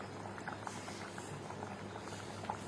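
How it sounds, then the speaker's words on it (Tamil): Fish head curry with coconut milk bubbles in a pot, a quiet, steady simmer with soft pops and small plops scattered through, close up and alone. "இப்போ நல்லா கொதிக்குது பாருங்கள்"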